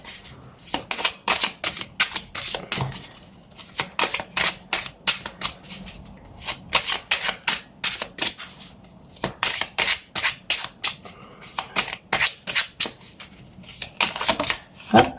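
Tarot cards shuffled and dealt one at a time, a rapid run of crisp, close riffling snaps and slaps repeating in bursts with short pauses between them.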